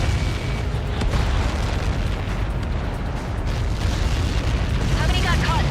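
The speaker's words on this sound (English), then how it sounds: "How many got caught in that explosion?" Massive explosion in the video game Ace Combat 7, a sustained deep rumbling boom and roaring blast that fills the scene loudly, with radio voices speaking over it.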